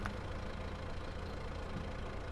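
A tractor engine runs steadily close by, a continuous low rumbling idle with no voices.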